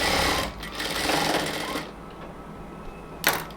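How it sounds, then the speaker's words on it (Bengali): A sewing machine runs steadily for close to two seconds, stitching a half-inch seam on a luxury cotton kameez. It stops, leaving a quieter stretch with a short burst of machine sound near the end. "এই 1/2 ইঞ্চি সেলাই করতেছি।"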